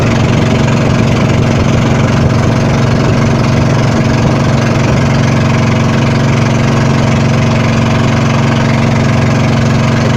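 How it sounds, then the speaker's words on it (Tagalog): A motorized passenger boat on a trip between villages in Laoang, Northern Samar, runs its engine at a constant loud droning chug with no change in pitch throughout and no voices. "Ito yung biyaheng Bangkang de Motor."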